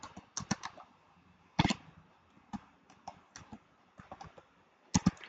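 A search is typed on a computer keyboard in short, uneven bursts of close, crisp key clicks separated by brief pauses.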